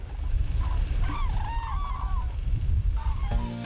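Cranes call from their breeding grounds: a run of honking, trumpeting cries at moderate distance over a steady, noisy outdoor background.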